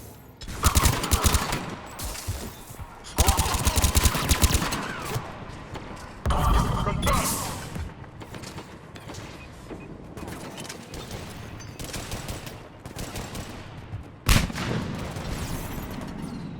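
Gunfire in the Mass Effect 3 video game: loud bursts of rapid shots and heavy blasts in clusters, with a sharp crack near the end, over constant battle noise, and a voice speaks briefly.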